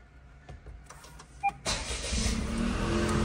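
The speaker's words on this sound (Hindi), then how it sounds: "इससे पहले हॉल के अंदर एंटर होने से पहले कर लेते हैं गाड़ी को स्टार्ट" A car's engine cranks and catches with a sudden roar, then settles into a steady idle, preceded by a few clicks and a short electric whir, close by with no talk.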